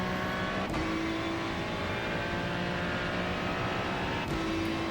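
A Ferrari 296 GT3 race car engine lapping Imola in iRacing, a steady, continuous high-pitched drone that eases and builds slightly as it comes back on the throttle, heard alone without talk.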